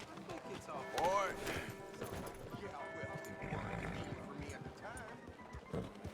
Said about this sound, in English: Here comes our horsey.